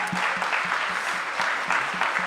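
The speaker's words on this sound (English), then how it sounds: "So first, a big round of applause for all of you folks." Dense, close applause from a diverse crowd at a music-filled fundraiser celebration, steady with a few louder claps standing out and no voices over it.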